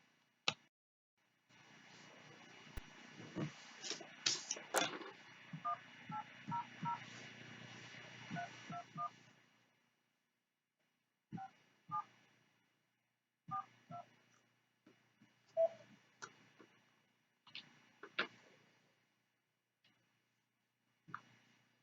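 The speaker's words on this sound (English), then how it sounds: "I'm going to call them right now." Touch-tone telephone dialing while placing a call to OSHA: a run of short DTMF key beeps over a faint line hiss, followed by further scattered single tones spaced a second or two apart, quiet and close.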